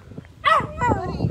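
A close dog lets out a sharp bark followed by a drawn-out whiny yelp, loud and brief, with a person speaking over part of it.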